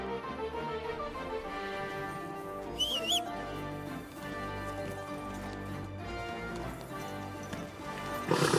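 Hooves clop in a steady rhythm beneath a music score in Kingdom Come: Deliverance 2, with a brief whinny-like squeal partway through.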